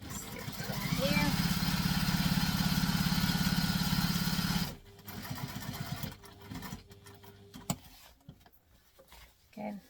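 A sewing machine runs steadily for several seconds while stitching the lining of an inside pocket, then stops, followed by softer handling clicks and rustling.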